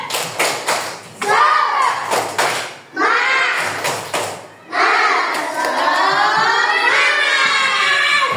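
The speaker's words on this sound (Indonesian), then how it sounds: "Tuh, tepuk semangat" Schoolchildren in an Indonesian classroom perform a 'tepuk semangat' spirit clap, sharp rhythmic claps in quick bursts followed by loud group chanting and shouting close by.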